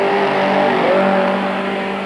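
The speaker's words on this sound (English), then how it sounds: "this battle for second position between the very wide grunting V8-powered Chev of Linton Draper" A V8-powered Chevrolet race car roars under power during a 1997 Super Series race, a loud close engine note rising in pitch as it accelerates.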